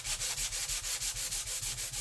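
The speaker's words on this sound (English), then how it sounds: "So I just want to sand it smooth because we're going to put a transfer down." A 320-grit sanding block rubbed back and forth over a wooden bird's nest craft piece, fast rhythmic scratchy strokes about six per second, close and steady, with no speech.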